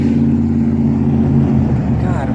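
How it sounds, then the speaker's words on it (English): A big, loud truck rumbles like an 18-wheeler with a deep, steady engine drone that holds for a couple of seconds before shifting slightly as it moves past. "what the fuck is the point of having a big truck that sounds like a huge fucking 18-wheeler?"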